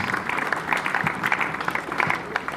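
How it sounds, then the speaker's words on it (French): A congregation at a pastor's funeral in Kinshasa applauds, with dense continuous clapping from many hands and a murmur of crowd voices mixed in, sustained and fairly loud throughout. "Est-ce qu'on peut bien acclamer le roi de gloire?"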